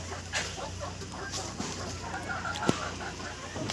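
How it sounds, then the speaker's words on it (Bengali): Golden (Sonali) chickens cluck softly in the background, a scattering of short calls over steady outdoor ambience, with one sharper knock partway through. "তো এবার বাইরের মুরগি এই যে"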